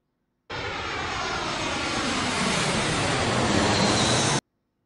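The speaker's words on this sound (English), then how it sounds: "Plane." An airplane flies overhead, a broad continuous engine roar that fades in sharply, swells slightly as it passes, and holds loud until an abrupt cutoff.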